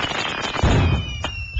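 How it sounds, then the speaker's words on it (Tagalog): Short burst of fireworks in a Filipino comedy show setting, a loud bang around the middle followed by crackling and a second sharp pop near the end, all within under two seconds. "Yung tinatawag na 3 seconds fireworks display."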